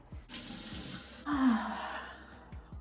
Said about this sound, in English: I'm gonna just rinse off the CeraVe with some water.